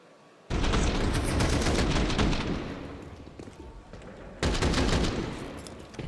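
Bursts of rapid automatic gunfire in a Counter-Strike esports match, two loud sustained volleys separated by a quieter stretch of echoing shots, dense and close with no talk.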